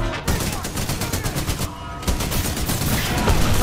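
Sustained rapid gunfire from a weapon aimed at a small mini mech in Titanfall 2, loud and close with dense repeated shots, a brief lull partway through before the firing resumes.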